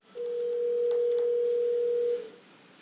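A steady telephone tone sounds while calling the Gangneung City Hall transportation department, one clean unbroken beep lasting about two seconds before cutting off into quiet line hiss.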